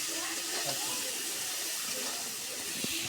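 Water is poured into a pan of shrimp, vegetable stalks and potato, making a steady, fairly loud rushing hiss that lasts about three seconds without a break.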